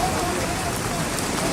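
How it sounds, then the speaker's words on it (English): Steady, close rain hisses down on the main road between Castle Comfort and Roseau, Dominica, the day after Hurricane Maria, a dense wash of drops on surfaces. "It's raining again"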